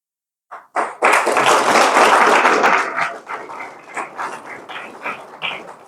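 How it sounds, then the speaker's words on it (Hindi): Applause from an audience at a talent award ceremony in Ayodhya swells suddenly into a dense burst of clapping, then thins into scattered, fading claps and a few thuds. "लगातार आप लोगों की तालियां बजती रहनी चाहिए"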